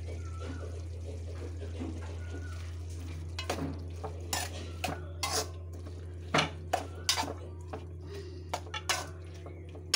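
Curry is stirred in a metal pot, with intermittent scraping and clanking of a spoon against the pot over a constant low kitchen hum and faint bubbling, the knocks getting busier and louder partway through.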